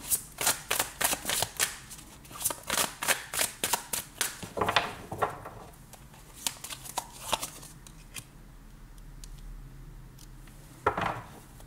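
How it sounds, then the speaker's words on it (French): Tarot cards are shuffled and drawn from a deck, a quick series of crisp riffling flicks followed by a few sparse card snaps and slides against a quiet table. "je vais juste retirer une petite carte sur ce 5 de coupe"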